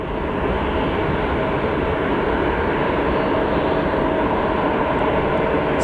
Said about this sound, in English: This American airline flight needs to get out of here.